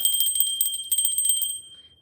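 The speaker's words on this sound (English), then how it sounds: "I also ring a bell" A small bell is shaken in a quick run of bright, high ringing strikes that carry on for about a second and a half, then fade out into silence.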